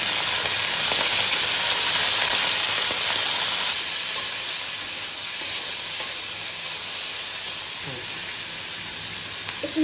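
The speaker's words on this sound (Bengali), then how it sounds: "তেলটা গরম হয়ে গেছে, এবার দিয়ে দিলাম চিকেনগুলো।" Boneless chicken pieces frying in hot oil for egg chicken noodles give a loud, continuous close-up sizzle and hiss, with a few small clatters of stirring near the end.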